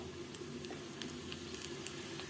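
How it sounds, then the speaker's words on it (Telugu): Cumin seeds sizzle faintly in hot oil as a tempering (popu) for chaaru, giving a steady frying hiss broken by small pops, with no talking. "ఇప్పుడు మనం పోపు కూడా పెట్టేసేసుకుందాము దీంట్లో సింపుల్ పోపు అనమాట"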